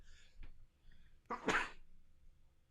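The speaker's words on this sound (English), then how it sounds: "sorry, I'm gonna sneeze." A single sharp sneeze bursts out close by after a quick inhale, followed by a soft exhale in otherwise quiet surroundings.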